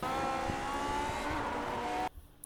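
A Lotus 49 racing car in iRacing at Silverstone revs hard and steadily through the gears, its engine a loud, sustained droning whine that cuts off abruptly near the end, followed by near silence.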